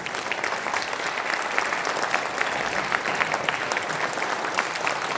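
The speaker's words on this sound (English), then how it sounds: "Let's give them all a round of applause," Audience applause fills a school instrumental concert hall, a dense, steady wash of many hands clapping at moderate loudness with no speech over it.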